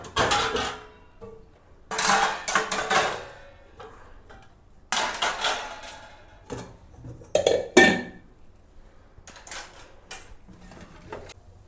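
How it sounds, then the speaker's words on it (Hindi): A washed cooking pot being set back into its place in a kitchen, giving a series of metallic clinks and clatters in short bursts with pauses between, fairly close and moderately loud, with no talking. "मेरा ये बर्तन धुल गया है, अब मैं इसको व्यवस्थित करके अपनी जगह पे लगाती हूँ"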